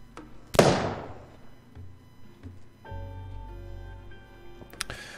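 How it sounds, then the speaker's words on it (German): One sharp, loud gunshot in the police tactics game This Is the Police 2, a single crack with a decaying tail, followed by low game ambience and music. "Schuss."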